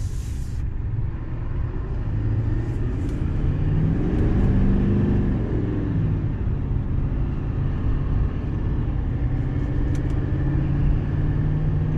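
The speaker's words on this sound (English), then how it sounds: "it does have a cool sound as a diesel" Chevrolet Silverado 3500HD Duramax diesel dually truck accelerating, a steady loud low rumble of the diesel engine with a rising drone in the middle, heard from inside with road noise.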